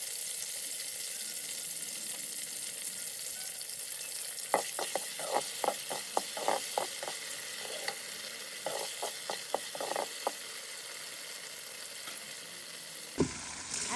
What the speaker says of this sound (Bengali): এখন আমি এটাকে একটু ভালোভাবে ভেজে নেব